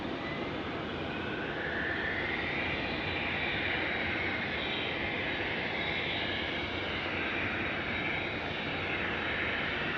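Embraer E175 jet airliner at Tucson airport giving a steady, broad engine roar that holds evenly for about ten seconds, moderately loud with no talk over it.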